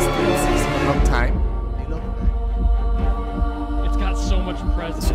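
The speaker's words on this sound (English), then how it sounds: "So you hear like that heartbeat in the background." Game music from the Genshin Impact Arlecchino boss theme, with string instruments and a low, regular heartbeat-like thump pulsing beneath it, loud and continuous.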